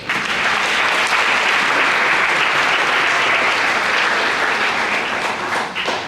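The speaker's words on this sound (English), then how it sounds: "Please give yourself a round of applause." Sustained applause from an audience at a community chess event, a dense even wash of clapping that stays loud throughout with no talk.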